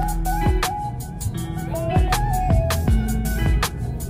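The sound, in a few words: midday traffic in the Philippines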